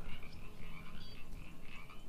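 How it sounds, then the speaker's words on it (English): A frog croaks in a video game called Echo of the Wilds, a continuous warbling trill of rapid croaks repeating steadily over ambient game background. "It's kind of easy to miss, but if you look down here, there's a frog there."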